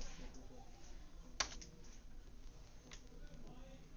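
Keys clack on a computer keyboard as a short command is typed: a few sparse, quiet taps with one sharper click standing out, over a low room hum.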